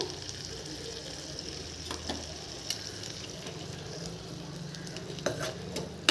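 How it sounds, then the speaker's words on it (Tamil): Prawns fry in a pan with a soft, steady sizzle and occasional clinks and scrapes as they are stirred, fairly quiet and continuous. "வேகட்டும் இறால் நல்லா கிண்டிக்கோங்க"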